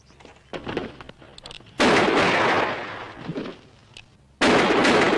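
Gunfire in a TV western episode: a few sharp, loud shots crack out, with two heavy blasts each sustaining a broad rushing roar, among scattered smaller pops and quieter gaps.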